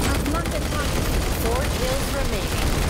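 An automatic weapon sprays continuously in the mobile shooter Hyper Front, a dense, rapid rattle of shots. A voice is faintly audible beneath the firing.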